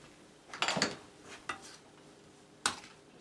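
A spoon clinks and scrapes against a bowl while mushroom stuffing with poultry seasoning and salt is stirred: a quick cluster of knocks, a single tap, then one sharp clink after a pause.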